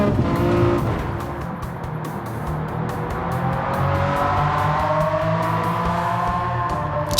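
A Ferrari F333SP sports prototype with a 4.7-litre engine runs loud and continuous, its steady high-pitched note rising gradually as it revs, with no talk.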